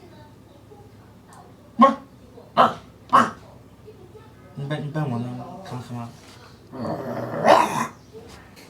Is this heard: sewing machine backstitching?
no